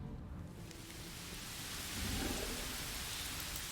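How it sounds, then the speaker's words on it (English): Steady rain falls in the fantasy role-playing game Pathfinder: Wrath of the Righteous, a dense, even hiss of downpour that swells slightly partway through, with no voices over it. "Oh great, the demon summoned rain."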